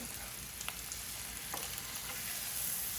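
Brined pork chops sizzling in a pan just after being flipped, a steady moderate frying hiss with a few faint clicks, no talking.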